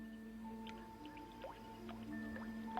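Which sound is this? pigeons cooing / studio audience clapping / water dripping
water dripping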